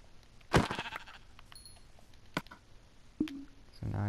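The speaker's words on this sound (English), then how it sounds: "And I hear a sheep. There is a sheep." Several short sheep bleats from the game Minecraft, scattered and fairly faint, with small footstep-like clicks and quiet game ambience between them.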